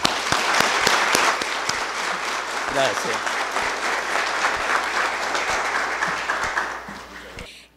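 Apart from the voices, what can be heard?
audience applause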